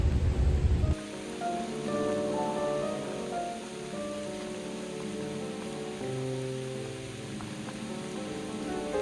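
Steady rain patters on a widebeam canal boat nearby, an even hiss with scattered drips, continuing without a break after a brief louder thump at the start.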